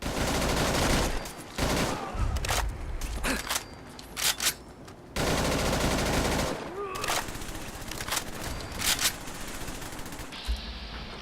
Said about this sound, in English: This FAMAS recoils a lot.